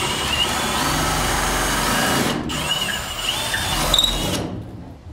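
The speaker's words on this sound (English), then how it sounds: "And this just drills down in and then cuts as you go square." A power drill fitted with a square mortise bit bores into a wooden door during a doorknob install, whirring steadily and loudly close by, briefly dipping mid-cut and trailing off at the end.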